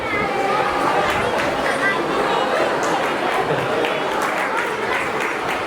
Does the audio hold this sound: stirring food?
no